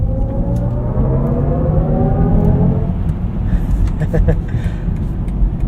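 A 2026 BMW iX xDrive45 electric car driving with synthetic drive sounds tuned by Hans Zimmer, a steady low humming rumble with tones that shift and rise, loud and continuous.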